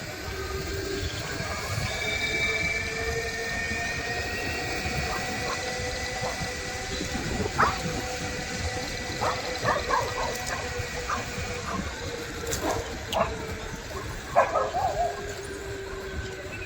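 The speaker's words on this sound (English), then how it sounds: "Dogs get a little excited." Several dogs, including an Afghan hound and Great Danes, bark and yip at a distance in scattered, irregular bursts over a continuous background hum.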